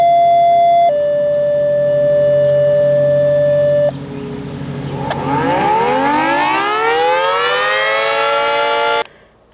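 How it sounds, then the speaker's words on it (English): A civil defense siren wails loudly: steady alert tones shift pitch, then a long rising, swooping howl builds before cutting off abruptly. "I just used it for the siren test yesterday,"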